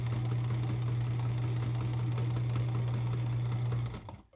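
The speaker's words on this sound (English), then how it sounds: "what I'm doing is I'm just folding it over and sewing." A sewing machine runs steadily at close range as fabric is folded over and stitched into cord, with a constant whirring hum and rapid stitching that slows and stops near the end.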